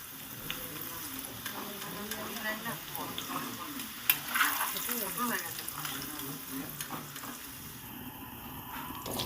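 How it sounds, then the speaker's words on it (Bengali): Potatoes fried red in oil are stirred in a pan, making a continuous sizzle with scraping and clinking from the stirring, while a voice talks quietly underneath. "আলুটা লাল করে ভাজা হয়ে গেছে ভালো করে একটু নেড়ে চেড়ে দিচ্ছি"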